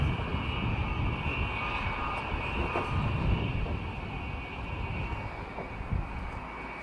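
A light aircraft engine at an air show arrival, a continuous loud drone with a steady tonal hum over broad rumbling noise, holding fairly constant throughout.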